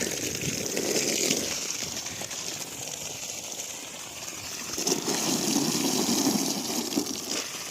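Water gushes steadily from the 1.5-inch delivery pipe of a 950 W solar BLDC borewell pump drawing from about 275 feet, a constant close splashing rush that swells midway, with no talking.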